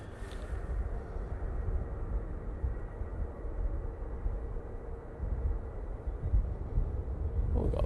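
A Jet2 airliner rolling down the runway at Manchester Airport on takeoff, a steady low rumbling roar heard from a distance, continuous and moderately loud with no talk.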